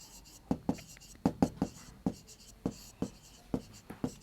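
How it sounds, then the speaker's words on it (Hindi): Chalk or marker tapping and stroking on a board while writing out a maths condition for linear equations, a series of sharp irregular knocks and scrapes, close and fairly clear. "उससे भी पहले हम लिखते हैं कंडीशन."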